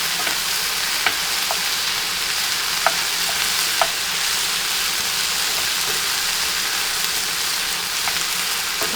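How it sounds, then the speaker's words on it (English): Shrimp and grits being stirred in a skillet, with a steady broadband sizzle and a few sharp scrapes of a utensil against the pan, loud and close, with no talking. "Stir it up really good."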